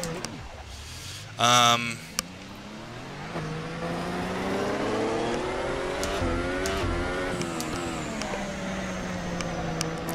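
A Formula car engine in Assetto Corsa revs and climbs through gears around Spa, a steady buzzing drone with rising pitch sweeps and a brief sharp burst early, while someone talks over it.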